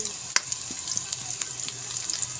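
Squash sautéing with Malabar spinach in a pan gives a steady soft sizzle, with a sharp scrape or clink near the start and light stirring ticks throughout.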